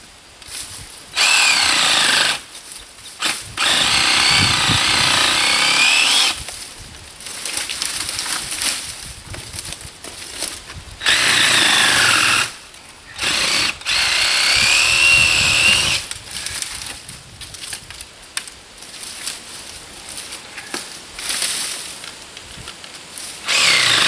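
A miter saw cuts dried firewood in repeated bursts, its loud motor whine rising as the blade bites and dropping into short pauses between cuts, with no talking.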